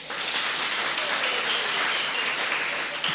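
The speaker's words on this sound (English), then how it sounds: "can we give him a clap?" A conference audience at a women's summit breaks into steady applause, a dense, even patter of many hands held at a moderate level for a few seconds.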